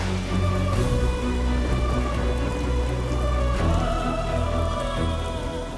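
Steady rain pours down in a continuous hiss, with a low hum and scattered tones underneath; no one speaks.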